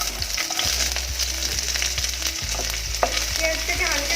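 Chopped medium onion and whole cumin fry in oil for biryani-style Maggi, a bright continuous sizzle close by with light stirring taps and no speech.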